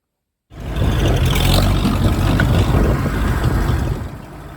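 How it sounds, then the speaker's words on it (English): A tractor engine starts after a moment of silence, then runs at a steady, loud idle close by, a low rumbling drone that eases slightly toward the end. "there's the tractor all nicely running"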